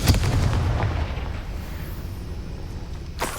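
A Confringo spell blast in the Hogwarts Legacy video game lands as a deep, booming burst that fades into a low rumble, and a second sharp crack follows near the end.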